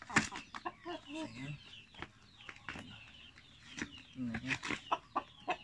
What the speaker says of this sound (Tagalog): Malaki na. Yung ating manok.